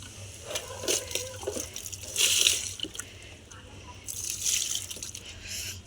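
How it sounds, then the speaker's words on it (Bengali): Water poured from a container onto garden plants, including a flowering tagar shrub and a curry leaf plant, splashes and trickles in uneven bursts, fairly close, with a steady low hum underneath. "আমি দিয়ে দিচ্ছি জলগুলো গাছে"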